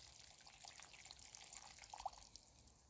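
Water poured into a pot to reach a freshly planted pumpkin's roots on an allotment, a faint trickling and soft dripping close by, quiet and steady, with no voices.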